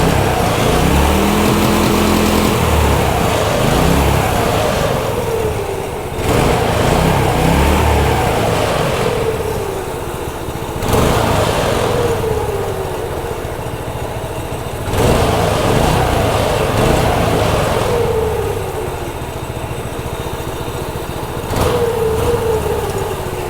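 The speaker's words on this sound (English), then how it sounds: "Brand new Predator engine from Harbor Freight, 212." A brand-new Harbor Freight Predator 212 small engine runs steadily and loud and close, with repeated rises and falls in pitch as it spins up and settles, mounted on a homemade rig with handlebars.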